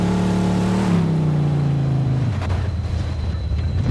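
A car engine in Mafia II holds a steady harmonic drone, then its pitch slides downward and roughens into a lower rumble, loud and close, with no voices.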